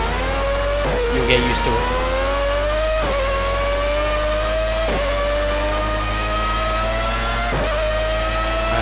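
Race car in Project CARS spinning out under heavy braking, a steady droning engine whine with brief skid bursts, loud and continuous while a voice talks over it.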